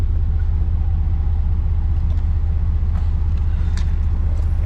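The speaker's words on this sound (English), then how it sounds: "The air compressor is going now" A 2002 Chevy S10 engine idles steadily with its AC compressor engaged, giving a continuous, close, low rhythmic rumble with no talk over it.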